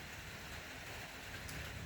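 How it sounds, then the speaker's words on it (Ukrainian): Steady, soft rain hiss fills the background, a quiet continuous wash with no voices. "дощ, дощ іде"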